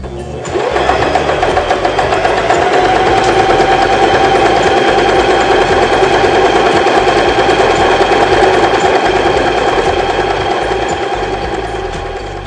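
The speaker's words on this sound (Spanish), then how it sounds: "Vamos a iniciar costura en zigzag con el largo de puntada número 1." Janome 2012 household sewing machine stitching a zigzag pattern, a loud, steady rapid needle chatter that starts abruptly, runs evenly for about ten seconds and eases off at the end.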